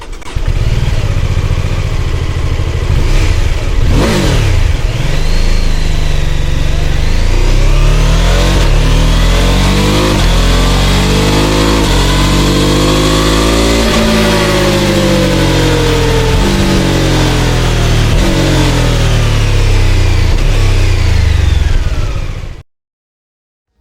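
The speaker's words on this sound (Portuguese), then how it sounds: "Essas combustões são muito, mas muito próximas e soarão como uma só combustão, tendo um som de monocilíndrico, como é possível ver nos próprios vídeos de demonstração de áudio da BMW" A BMW F450GS 135-degree parallel-twin motorcycle engine revs repeatedly, loud and close, climbing and falling in pitch through several sharp blips with a single-cylinder-like bark, then cuts off abruptly near the end.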